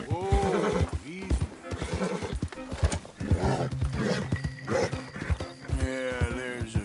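A horse in Red Dead Redemption 2 neighs and whinnies loudly several times, with hooves clip-clopping beneath and a rider's voice urging it along between the calls.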